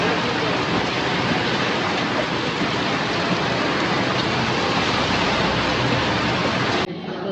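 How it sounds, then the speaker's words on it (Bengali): Steady, loud rain pours onto a waterlogged street, a dense unbroken hiss lasting throughout with no voices, cutting off abruptly near the end. "বৃষ্টি পড়ে যাচ্ছে"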